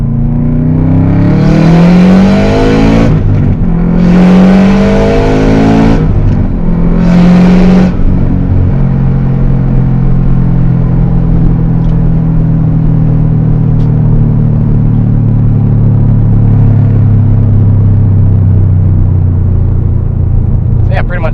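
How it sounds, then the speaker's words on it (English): A Subaru WRX STI running about 24.9 psi of boost pulls hard at full throttle from second gear, its engine roaring and climbing through several gear changes before easing back to a steady rumble. "just gonna do a second gear pull here and we'll just lay it out all the way through"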